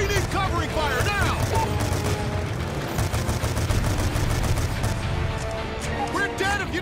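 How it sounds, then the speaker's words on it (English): Sustained gunfire from the Call of Duty Black Ops 2 video game, rapid overlapping shots and bursts, loud and continuous throughout, mixed with shouted voices and combat effects. "We need covering fire now!"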